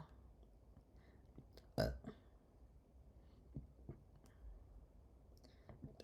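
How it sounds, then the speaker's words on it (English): A single short, throaty burp stands out partway through, over quiet, faint background murmuring and a few soft clicks. "I'm burping"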